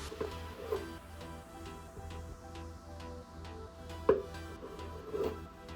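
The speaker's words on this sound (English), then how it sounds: "Once we get our bananas all cut up" A knife cuts bananas on a board in a home kitchen, giving a few sparse, soft chopping taps against a low steady background hum.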